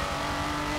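A mildly tuned Kia Stinger drifting in a racing video game played on a Logitech G920 wheel, its engine droning and exhaust roaring continuously and loudly throughout, with no talk over it.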